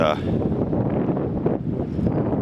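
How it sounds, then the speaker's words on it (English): Wind and blowing snow buffeting a winter camping tent during a March storm, a steady rushing, hissing roar with gusty flutter, while a person talks over it. "Just a lot of wind and blowing snow."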